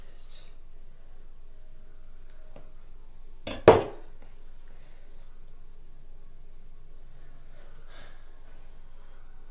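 A knife slices along the side of a Ben 10 cake with one short, close scraping cut in an otherwise quiet room.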